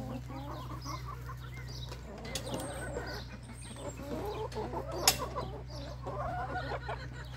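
Chickens cluck steadily in a suburban farm barnyard during morning chores, a close, continuous flock chatter with a few louder squawks, over a low steady hum.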